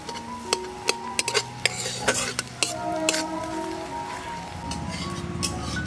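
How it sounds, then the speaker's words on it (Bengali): Chopped onion stirred in hot oil in a pan, with a run of sharp utensil clinks and scrapes against the pan over a steady frying sizzle, close and fairly loud. "তেলের মধ্যে পেঁয়াজটা দিয়ে পেঁয়াজটাকে হালকা নেড়ে নেব।"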